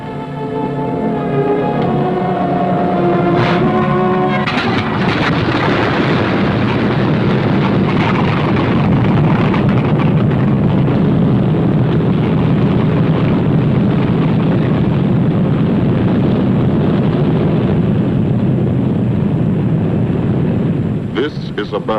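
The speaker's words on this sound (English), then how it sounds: "Only the roaring engine sound of the bombers pounding through the quiet English countryside." Engines of World War II B-17 bombers roar in a loud, sustained drone that swells and holds for many seconds, with some wind rush and a voice speaking at the start.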